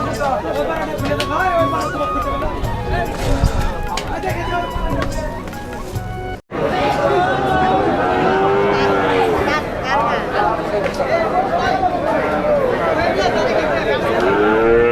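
Buffalo and cattle low repeatedly at a busy livestock market in Kaitola, the drawn-out calls rising over constant crowd chatter and nearby talking for most of the stretch.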